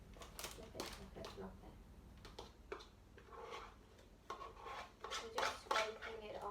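Hot cross bun paste being scraped off with a utensil, giving short, uneven scrapes and clinks at close range while children and an adult talk over it.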